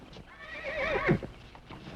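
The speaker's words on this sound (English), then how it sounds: "Quiet those horses." Horses whinny loudly in a rising and falling neigh close by, with a few hoof clops beneath, in a frontier skirmish outside a house.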